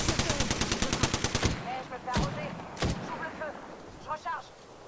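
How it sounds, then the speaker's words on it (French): Apex Legends gunfire: a rapid automatic burst of about a dozen evenly spaced shots, then a few single heavy shots, with brief voices and game chatter between them. "J'ouvre le feu, je recharge."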